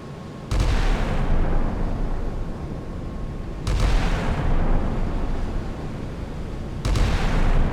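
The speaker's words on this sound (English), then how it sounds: "The Galveston engages with its 127mm guns, preventing the crossing and initiating the first contact of this conflict." The USS Galveston's 127mm naval guns fire in a video game, three heavy booming shots spaced about three seconds apart, each a loud sudden blast followed by a long rumbling decay.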